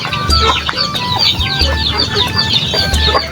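Chickens cluck and call repeatedly in a farmyard pen kept alongside ducks, loud and close, with overlapping squawks, short clucks and a brief crowing note in a busy, irregular rhythm, and no voices.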